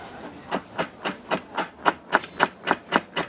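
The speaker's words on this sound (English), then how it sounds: "I'm just going to hammer this down here." Eleven steady, evenly spaced hammer blows ring out close and loud as a hot nail is forged on an anvil, with no talking.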